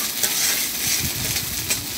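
Garlic, onion and green chilies sizzle steadily in hot oil in a pan, with a bright continuous frying hiss and occasional stirring scrapes, close and alone.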